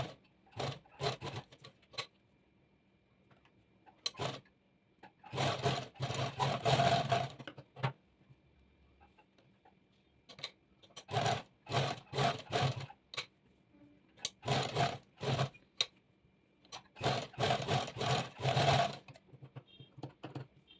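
A sewing machine stitching a petticoat in bursts of rapid mechanical clatter, stopping and starting repeatedly with quiet gaps between runs, close by and with no voices.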